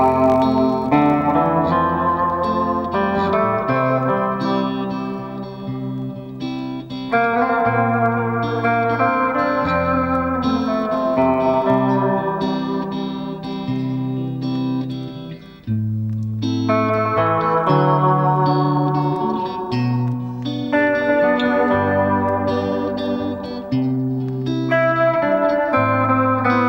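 An electric guitar plays a lilting melody, its notes drenched in echo and reverb repeats over sustained chords, loud and continuous throughout.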